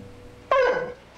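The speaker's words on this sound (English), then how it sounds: "She would whimper and cry any time she came near that room." A dog gives a single short, high whimpering cry that falls in pitch, close by and lasting under half a second in an otherwise quiet room.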